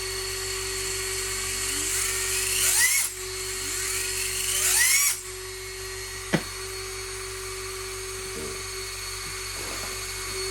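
An RC helicopter's electric motor whines steadily at close range and rises in pitch twice as the throttle is opened, then drops back to a steady idle hum broken by a sharp click.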